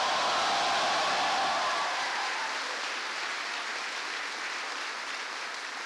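An audience at a presidential address to troops at USAG Yongsan applauds an Army specialist, a broad steady wash of clapping that slowly fades and thins over several seconds, with no voices.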